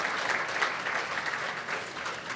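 Audience at a Chicago charity gala keynote applauds in a steady, even wash of clapping that holds for the whole stretch at moderate level, with no voices over it.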